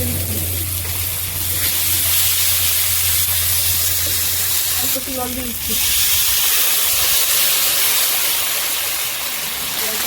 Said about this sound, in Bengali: তেলের মধ্যে ভালো করে ভেজে কষে নিচ্ছি পেঁয়াজ টমেটো ভেজে দিচ্ছি